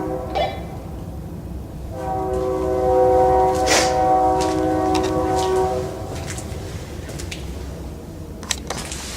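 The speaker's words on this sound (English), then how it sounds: "Right now I can't hear anything over the train." A train goes by the Franklin County Jail Museum, its low rumble swelling and fading while a loud, steady horn blast holds for several seconds in the middle, then trails off into a quieter rolling sound.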